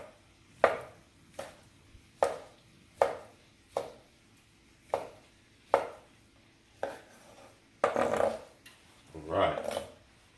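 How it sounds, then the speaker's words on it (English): A knife chops sausage on a cutting board for sausage and peppers. About ten sharp, evenly spaced cuts sound up close, followed by a rustling scrape as the pieces are gathered. "let's get this last sausage chopped up and put in here as well."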